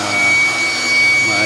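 A handheld blower drying leftover water off a washed split-type aircon filter, a loud steady rushing airflow that swells and dips slightly over a second and a half, close to the mic.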